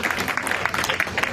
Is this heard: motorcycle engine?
no